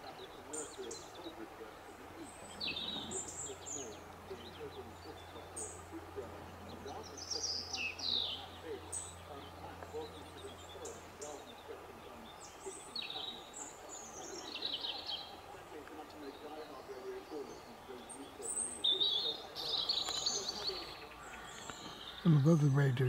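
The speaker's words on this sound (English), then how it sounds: "And above the radio, you can hear the natural bird songs still in the trees." Birds chirp and sing in the trees near a heritage steam railway line on an autumn day, with short, bright calls scattered throughout over a faint background of a distant radio and soft ambient noise.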